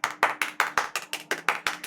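About a dozen soft, even hand claps in a steady quick rhythm, each a light close slap with no voices over them.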